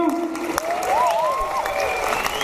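Crowd at a breakdance battle clapping and cheering for the Rain crew: continuous loud applause with cheers and whistles, a host's amplified voice heard briefly over it.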